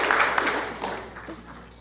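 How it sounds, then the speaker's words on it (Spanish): Audience applause from a large church gathering of nearly three thousand people, a dense wash of clapping that swells briefly and then fades away, with a voice speaking over it. "Denle un aplauso otra vez."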